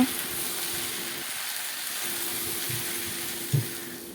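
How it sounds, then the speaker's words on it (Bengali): Steady hissing sizzle of potatoes frying in oil until browned, with a faint hum and a small clatter near the end. "আলুগুলোকে লাল করে ভেজে নেওয়া হলো"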